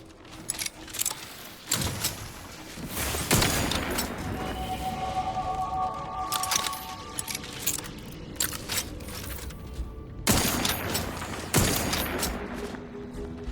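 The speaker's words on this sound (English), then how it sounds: "I feel bad shooting the little ones." Gunfire in The Outer Worlds 2 video game on PS5 Pro: loud, sharp bursts of shots separated by brief lulls, with clinking and rattling game effects in between.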